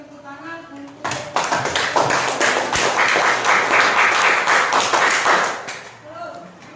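A classroom of students claps in applause during a trigonometry lesson, with loud, dense clapping that builds after a second, holds for about five seconds and then fades out.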